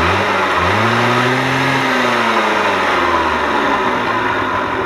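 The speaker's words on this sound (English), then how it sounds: "Lucas, show us the full throttle." A motorbike engine revved to full throttle, pitch climbing sharply then holding and falling back toward idle, loud and close with no talking.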